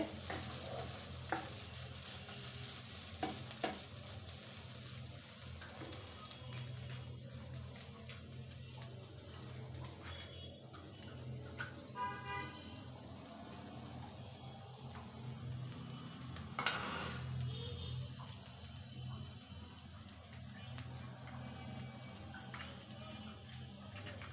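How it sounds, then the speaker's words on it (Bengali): Grated coconut mixture fries in a pan for a bhaji, a soft steady sizzle under scattered clinks and scrapes of a utensil against the metal pan, fairly quiet and continuous with no clear speech. "এখন আমি আরো 5-7 মিনিট এটাকে আমি ভেজে নেব, তা না হলে নারকেলটা তো কাঁচা থাকবে"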